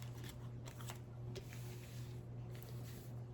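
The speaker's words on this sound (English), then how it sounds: "Let me give it a quick ruffle shuffle." Deviant Moon tarot cards get a quick ruffle shuffle, a few soft, close riffling bursts over low, steady room hum, with no talking.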